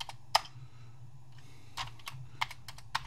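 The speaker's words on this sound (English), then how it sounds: "We just plug it in, see if we can type something." Sparse, clacky keypresses on a Commodore VIC-20 keyboard, a sharp single click followed after a pause by a quicker run of several keystrokes, close and dry over a low electrical hum.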